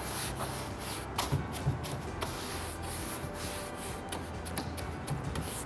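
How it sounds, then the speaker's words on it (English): A brush rubbing wax into the painted wood of a hutch, a soft, close, scratchy scrubbing with irregular back-and-forth strokes and occasional brighter brushy flicks, heard alone at low volume. "You just really want to rub it into the paint as much as you can so it can seep down in there"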